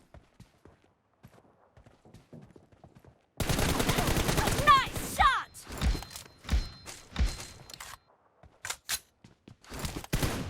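M416 assault rifle fire in PUBG Mobile starts abruptly after a quiet stretch with a rapid, dense burst, then continues as scattered loud single shots, with someone speaking faintly nearby.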